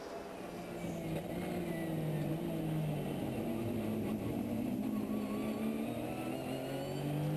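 Race cars, including Lamborghinis, Porsches and a Nissan, on track at the Dubai 24 Hour race, heard as a steady, blended engine drone that rises and falls in pitch as they pass, moderately distant.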